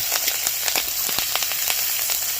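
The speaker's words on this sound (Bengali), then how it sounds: "ফাটে আবার লঙ্কা ফাটে" Chopped green chili and garlic crackle and sputter in very hot oil, with dense continuous sizzling broken by sharp popping bursts scattered throughout, close and fairly loud.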